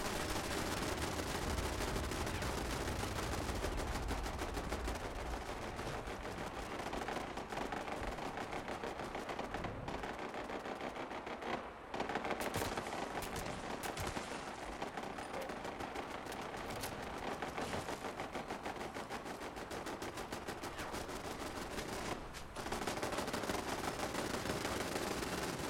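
Turrets in the video game Fallout 76 fire continuously in dense, rapid automatic bursts, loud and close, with only a brief break near the middle.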